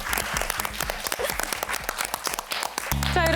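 A studio audience on a Korean language quiz show applauds a correct answer, with lively, close clapping that ends as a bright electronic chime sounds over it.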